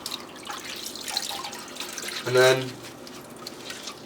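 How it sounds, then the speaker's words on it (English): Water from a tightly rolled football glove drips and splashes into a sink, one brief burst standing out near the middle while a person talks over it. "I roll it really tight, just to get as much of the water out as I can"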